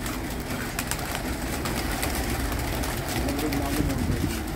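Hyderabadi racing pigeons being released in Delhi, with steady cooing and flapping over a continuous outdoor hum; people talk quietly underneath.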